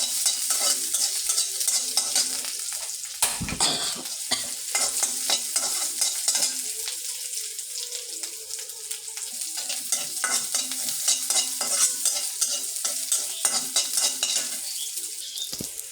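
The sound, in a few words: chopped onion and garlic frying in hot oil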